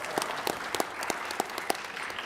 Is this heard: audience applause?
yes